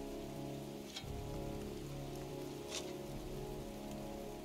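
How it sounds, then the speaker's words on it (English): Steady rain in the video game Heavy Rain patters on a surface, a dense continuous hiss over a low droning hum, with a couple of brief splashy bursts. "It's cold. It's raining."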